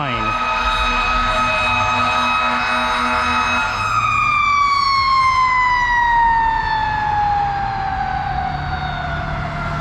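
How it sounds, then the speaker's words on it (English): An ambulance siren wails loudly on a street in Stockbridge, Georgia, its steady tone dropping sharply in pitch as the vehicle passes close by, then trailing off with traffic rumble beneath. "There goes the ambulance action."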